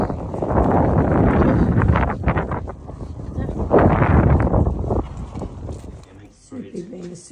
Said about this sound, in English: Nice little windy ride with Valley.